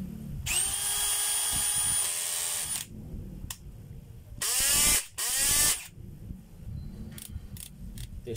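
A repaired cordless electric drill with a hammer mode and new transmission and chuck runs in loud bursts, first a sustained whine, then two short rattling hammer-action runs, followed by brief blips.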